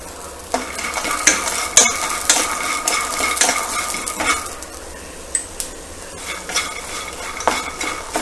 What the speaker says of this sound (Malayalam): അപ്പോൾ നമ്മുടെ കപ്പലണ്ടിയും നല്ല മുരിഞ്ഞിട്ടുണ്ട്.